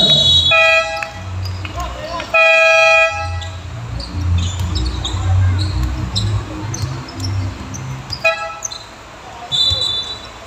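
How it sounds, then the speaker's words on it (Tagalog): A basketball game buzzer sounds at an exhibition game, giving two loud, blaring horn-like blasts early on, heard over steady crowd noise and live commentary. "Buzzer."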